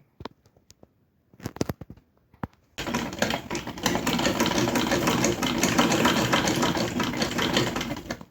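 Treadle sewing machine sews nearby. A few scattered clicks and taps come first, then a steady, fast mechanical clatter runs continuously to the end.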